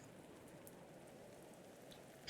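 Rain in the Roblox game Natural Disaster Survival, a faint, even patter of drops on surfaces holding steady throughout a short stretch.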